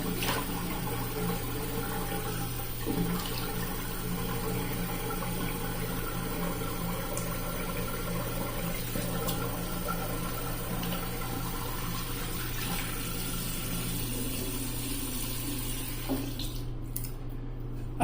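Cold tap water runs steadily into a sink to rinse a razor after a shave, a constant rushing flow with a few faint clinks throughout, close and continuous.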